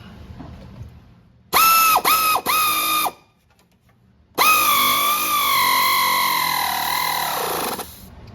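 Ratchet tightening a bolt on a rack and pinion of a 2002-2008 Dodge Ram 1500 4x4, first three quick clicking bursts, then a pause and a longer continuous ratcheting run, loud and close.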